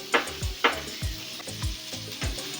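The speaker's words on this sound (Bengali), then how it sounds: "পেঁয়াজ আর কাঁচা লঙ্কাটাকেও তেলের সাথে নাড়াচাড়া করে দু মিনিট ভেজে নেব" Chopped onion and green chili frying in mustard oil with potatoes, a steady close sizzle broken by repeated scraping strokes of a spatula stirring the pan.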